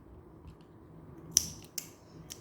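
Scissors snipping crochet yarn, a few quiet crisp clicks spaced apart over faint background hum.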